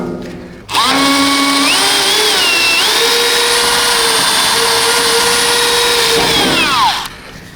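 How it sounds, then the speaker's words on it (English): Power drill boring a hole at the end of a crack in a cracked truck cab's sheet metal, a steady loud whine that rises in pitch as it spins up, holds for about six seconds, then winds down. "I drilled a hole right at the end of the crack"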